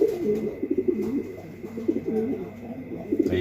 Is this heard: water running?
no